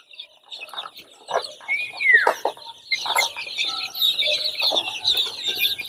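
A first batch of early bird chickens clucks and calls as they are let out of their covered night shelter. The sounds are scattered and fairly close, with a rooster-like call among softer chirps, and no talk.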